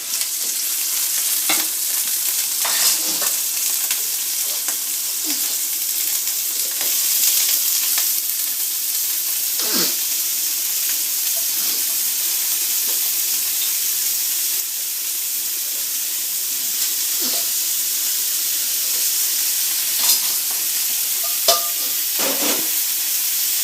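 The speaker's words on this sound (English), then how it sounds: "I'm just going to fry it and keep it ready" Boiled vegetables are sautéed in a pan for mutton stew, giving a continuous loud sizzle and hiss with scattered scraping stirs and taps, close up and without speech.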